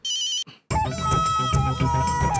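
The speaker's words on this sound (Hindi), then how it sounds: "मेहता साहब ने फोन काट दिया या कट हो गया?" A phone rings with an electronic tone, cuts off briefly, then a louder melodic ringtone plays on continuously.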